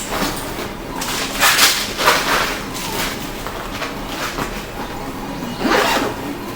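A zipper closing on a Tamrac Expedition 8 camera bag packed with FPV gear, heard as a few loud, close rasping pulls with short gaps between them.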